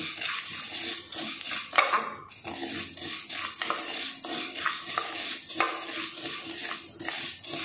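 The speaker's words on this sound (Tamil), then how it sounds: "கடுகு வெடிக்க ஆரம்பிச்சிருச்சு" Mustard seeds and fenugreek seeds splutter in hot oil for a raw mango pickle tempering. Sharp scattered crackles and pops sit over a continuous sizzle, with occasional spoon clinks against the pan.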